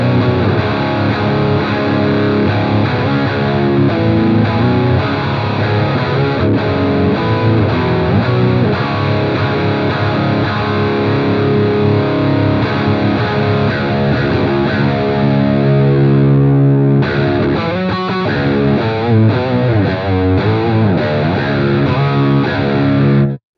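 High-gain distorted electric guitar through a Synergy Herbert preamp with the gain at halfway, loud, thick sustained chords and chugging riffs played alone for about twenty seconds before cutting off abruptly.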